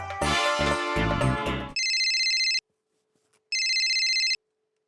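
Music cuts off and a telephone rings in two electronic bursts, each lasting under a second, separated by a short silence.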